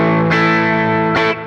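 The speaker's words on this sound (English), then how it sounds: "And lead distortion." Electric guitar lead distortion tone played through a Quad Cortex modeler, a loud, saturated sustained note that rings with thick harmonics, then a fresh picked attack near the end before it cuts off abruptly.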